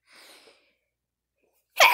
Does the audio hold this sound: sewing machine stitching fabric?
no